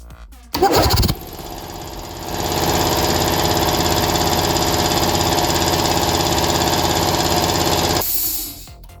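A portable air compressor that would not start under pressure kicks on after a brief clatter, then runs with a steady loud motor drone for several seconds before switching off, heard alone and close.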